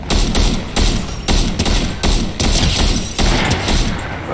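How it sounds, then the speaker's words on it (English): Rapid, loud sniper rifle shots crack in a regular rhythm, about eight in four seconds, in a battle royale shooter video game, with no talk over them. "What is wrong with my sniping? Sniping is never this bad."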